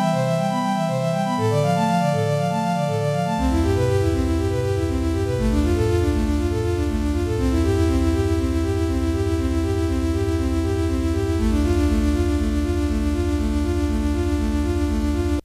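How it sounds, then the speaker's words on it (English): Ableton Drift synthesizer playing a basic arpeggio patch with all modulation and effects switched off, a static, repeating sequence of plain tones moving through a few chord changes, heard alone without voices. "It's a Drift synthesizer with a fairly basic patch,"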